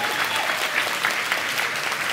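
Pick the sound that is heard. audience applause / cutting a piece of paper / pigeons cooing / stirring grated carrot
audience applause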